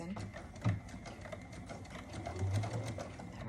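Sewing machine stitching a Tree of Life quilt, a continuous mechanical run with a steady whir, heard close under room sound with brief murmurs of a voice.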